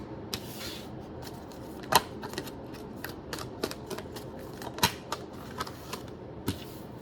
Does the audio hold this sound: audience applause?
no